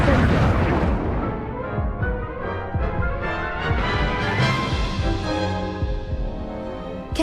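A Confringo explosive spell blast from the Hogwarts Legacy video game booms out in a dense, rumbling burst amid a barrage of other spell impacts and game effects, with voices speaking over the action.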